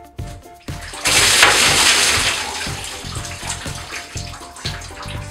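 A bucket of ice water is dumped over a person in one loud rushing pour lasting about a second, then softer splashing and dripping trail off.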